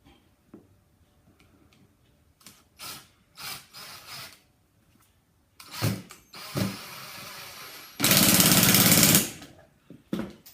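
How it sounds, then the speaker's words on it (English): Cordless drill or impact driver sinking screws into 4x2 timber in short separate bursts, with light tapping between and one long loud drive near the end. "put a few screws in."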